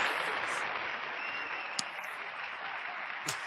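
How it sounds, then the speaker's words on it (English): A crowd applauds a comedian being welcomed onstage, a steady wash of clapping at constant loudness for the full few seconds, with a couple of sharp brief clicks cutting through and no speech heard. "Hold your applause, people."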